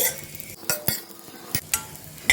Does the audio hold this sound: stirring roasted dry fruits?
yes